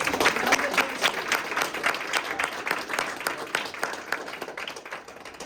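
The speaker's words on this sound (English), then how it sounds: "give a huge round of respect and a huge round of applause to our mom" Audience applause at a talk on credit scores, dense steady clapping from a crowd that carries through the whole stretch and fades slightly toward the end.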